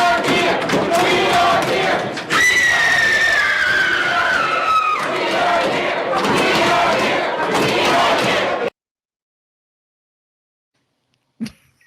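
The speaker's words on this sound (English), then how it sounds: "That was a good scream." A woman screams in a played recording, long sustained wailing cries over a noisy, crowd-like background for about nine seconds before cutting to silence.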